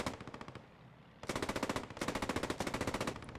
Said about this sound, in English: Just MG suppressive fire, going down in the bushes, going down in the hedgerows and the ditches